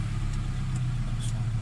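A Toyota Corolla engine holds a raised, steady drone at high revs during panel gauge testing, loud and close with a constant low hum and a few faint higher ticks over the top.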